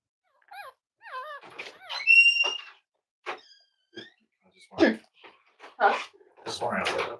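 Cavalier puppies whimper and yip in short, high, wavering cries, several in a row, with soft rustling and an adult voice speaking gently in between.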